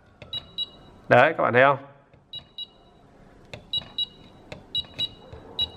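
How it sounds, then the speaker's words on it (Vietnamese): A Mitsubishi LV16-R fan control board gives repeated short pairs of high beeps, crisp and close, with someone speaking briefly between them. "Đấy, nó cứ chuyển trạng thái là nó kêu hai lần tít tít."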